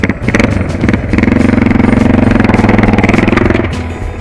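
A motorcycle engine climbing an uphill forest road revs hard and close, with a steady throbbing drone that rises and holds before easing off near the end; no speech.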